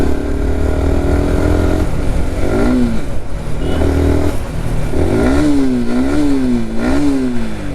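A Yamaha R15M motorcycle engine revving repeatedly with its accelerator sticking, loud and close, rising and falling pitch sweeps over a rough idle.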